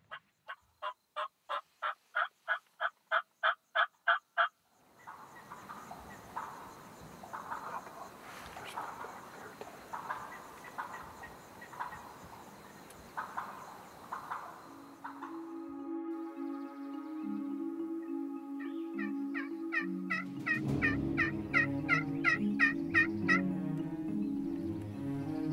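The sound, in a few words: wild turkey jake gobbling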